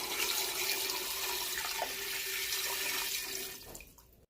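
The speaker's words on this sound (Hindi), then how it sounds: "1 लीटर पानी ऐड करेंगे।" Water is poured into a pot for desi chicken yakhni soup with spices. A steady, close rushing pour runs for about four seconds before cutting off, with no talk.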